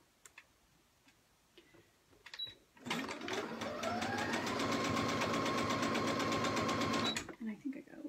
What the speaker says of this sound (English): With your walking foot, you're going to go through all 4 using a 1/4 inch seam allowance